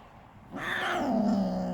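A black-and-white cat outdoors lets out a long, loud yowling cry that starts after a brief quiet moment and holds, rising and wavering, close to the listener.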